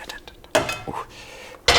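A dish is pulled out of a microwave, producing a few sharp clinks and clatters of dishware, close and fairly loud, with short pauses between the bursts of contact.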